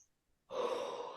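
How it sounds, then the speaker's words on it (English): After a moment of near silence comes a single deep, breathy exhale from one person, close to the microphone and sustained for more than half a second. "If you hear me exhale,"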